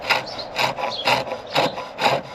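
A carbide chisel shaves a wooden chair tenon in five rhythmic, evenly spaced rasping strokes, close and crisp with scraping wood texture between short pauses.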